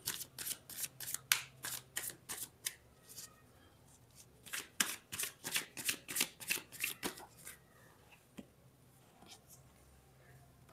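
A deck of cards is shuffled up close during a card reading, crisp riffling bursts in two runs separated by a short pause, with no one speaking.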